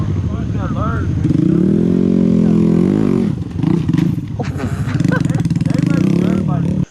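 A small Grom motorcycle on a dirt oval track revs loudly and close with the throttle held open. The engine pitch rises and falls, drops briefly midway, then roars again.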